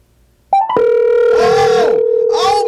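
A phone call's steady dial tone plays loud and close through an LG XBOOM Go Bluetooth speaker, a continuous electronic hum with a brief lead-in beep and a voice briefly over it.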